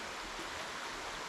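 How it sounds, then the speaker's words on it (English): Shallow creek running steadily beside a semi-off-grid homestead near Ithaca in the Finger Lakes, a soft continuous hiss of flowing water, close and even with no other sounds. "It's the sound of this creek."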